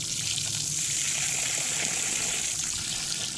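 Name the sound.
water running from an outdoor hose bib faucet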